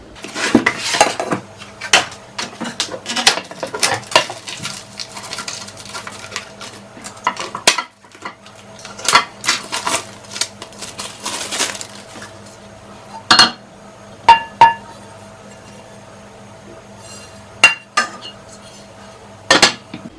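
Unpacking a new 26 cm Tefal Extra nonstick pot: scattered metallic clinks, knocks and rustling handling noises in irregular bursts with quiet gaps, close by and without speech.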